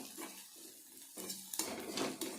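Turmeric being stirred into onions in a pan, a utensil scraping and clinking against the metal in close, repeated strokes with a light sizzle underneath.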